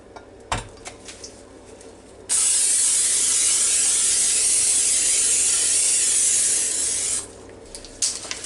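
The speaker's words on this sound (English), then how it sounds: "I'm going to spray my 8x8 dish." Cooking spray sprayed into an 8x8 baking dish, one steady close hiss lasting about five seconds, with light kitchen clatter before and after.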